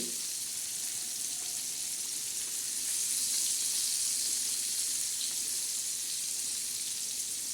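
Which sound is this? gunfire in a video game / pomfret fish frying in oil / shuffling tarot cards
pomfret fish frying in oil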